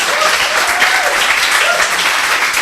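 A full room applauds at a coding bootcamp graduation showcase, loud continuous clapping from many hands held at an even level.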